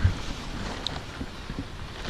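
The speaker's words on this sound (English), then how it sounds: "the wind just started picking up" Wind gusts rushing over an outdoor spot where a car is being painted, a steady broadband roar with mic buffeting, fairly loud and continuous with no talking.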